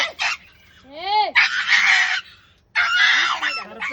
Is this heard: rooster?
yes